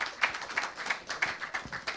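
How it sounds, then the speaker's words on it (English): An audience at a mosque open day claps in brisk, fairly faint applause to welcome a speaker, with no talk over it. "So let's welcome her with a round of applause."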